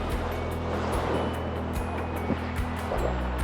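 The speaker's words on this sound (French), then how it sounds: "Surf sur les vagues." Steady rushing of water and waves against a sailboat's hull as it surfs down waves at about 11 knots in the trade winds, with wind noise and occasional knocks, continuous throughout.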